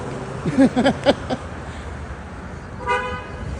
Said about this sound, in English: Oh, traffic trying to creep up like they doing something.